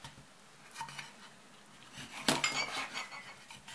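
A knife slices fish into pieces on a board for canning, a few sharp clicks and scraping contacts, with one louder clatter midway, close and fairly quiet.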